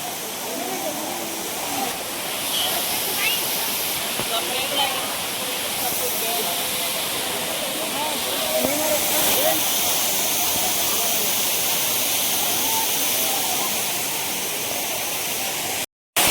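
The Ghatarani waterfall near Gariyaband flows with a steady, loud hissing rush of falling water, continuous throughout with no clear voices on top.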